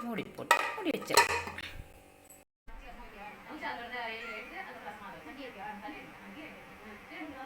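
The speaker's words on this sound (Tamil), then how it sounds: "மூடி போட்டு மூடி வச்சிடலாம்." Metal clinks and clatters as a lid is set onto a cooking pot of drumstick-leaf rasam, followed by a quiet bubbling simmer and faint kitchen noise.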